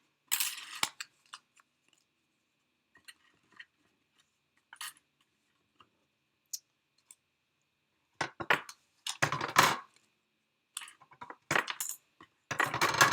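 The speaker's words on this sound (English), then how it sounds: "That's a new trick I discovered, is just to throw those dies and the papers fall out." Small metal cutting dies from a paper die-cutting machine are tossed and land with sharp clinks and rattles, scattered taps at first, then dense bursts of clattering metal near the end.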